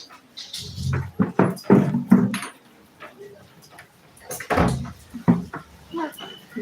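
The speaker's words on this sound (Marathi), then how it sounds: "दरवाजा उडून घेईन आपल्या एकदा" A house door is pushed shut during rain, a few dull knocks and thumps between stretches of close conversation.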